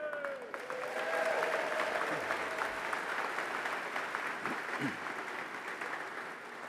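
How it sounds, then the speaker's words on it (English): Steady applause from a crowd at a VFW national convention business session, dense and sustained for several seconds with no break, with a few faint voices mixed in. "Now you can applaud."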